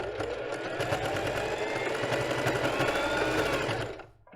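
A sewing machine backstitches across lace on a bra, running in a fast, steady whir of stitches for about four seconds before stopping abruptly.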